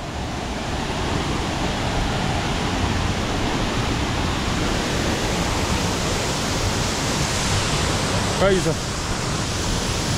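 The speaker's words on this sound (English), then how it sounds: "So your man is here in this waterfall." Nyabomite Waterfall in Nyanza, the region's largest, roars as a loud, dense, unbroken rush of falling water close by, while someone speaks briefly over it.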